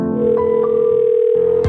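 Steady telephone dial tone humming continuously and clearly from a handset, close and alone, cutting off briefly near the end with a small click.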